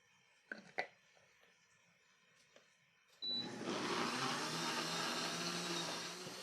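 A few faint knocks and clicks come first, then a blender roars to life midway and runs steadily, loud and close, as it purees green herbs.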